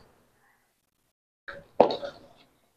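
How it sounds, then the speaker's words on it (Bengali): Chopped dates dropped into a rice batter give a single soft, wet plop, close and quiet, preceded by a faint brief rustle, with silence around it. "এবার যে খেজুরটা কেটে রেখেছিলাম সেটা দিয়ে দিচ্ছি"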